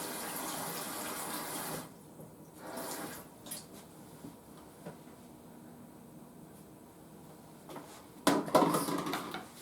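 Running tap water splashes over a utensil being rinsed at a kitchen sink while baking an oatmeal bake from scratch, a steady close stream that pauses midway and returns with louder splashing near the end.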